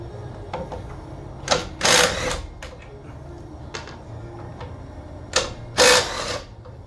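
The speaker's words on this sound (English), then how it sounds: "Next, we're going to remove the caliper with an 18mm socket." An 18mm socket on a ratchet or impact tool loosens the rear brake caliper bolts on a Chevrolet Silverado Duramax crew cab dually, with two pairs of short loud whirring bursts among small metallic clicks, no talking.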